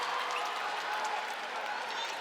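Partisan home crowd at a San Miguel Alab Pilipinas basketball game against the Singapore Slingers, a steady broad wash of applause and cheering during free throws, continuous and moderately loud throughout.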